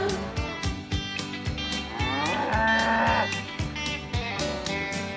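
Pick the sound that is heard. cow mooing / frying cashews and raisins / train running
cow mooing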